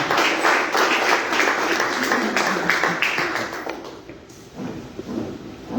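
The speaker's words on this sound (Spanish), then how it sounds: "Denle un fuerte aplauso a Jesús." Sustained applause from a large church congregation fills the room, a dense steady wash of clapping that slowly thins toward the end.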